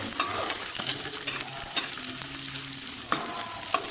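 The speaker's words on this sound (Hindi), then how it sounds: "इसको बस हमने लाइट ब्राउन करना है और इसमें मतवातर हमने चम्मच ऐसे चलाते रहना है" Something fries to light brown in a pan for chicken korma while a spoon stirs continuously, giving a loud, close sizzle broken by scraping clicks and knocks, with no speech.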